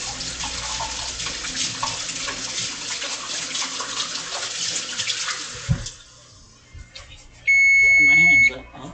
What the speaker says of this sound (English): I want to wash my hands.